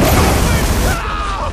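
A car explodes in Far Cry 3 with a loud, dense blast that fills the whole range, then tapers into a rumbling fiery roar with a faint voice mixed in.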